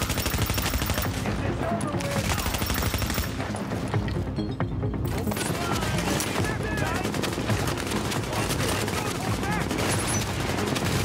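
Dense, continuous automatic gunfire in The Division video game, loud and sustained for the whole stretch, with overlapping bursts and cracks and game chatter mixed underneath.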